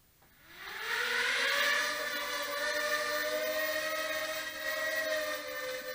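A JJRC 1000A drone fitted with an Eachine X-6 battery flies close by, its motors spinning up from a short quiet start into a steady, loud whining drone that holds its pitch with slight wavering throughout.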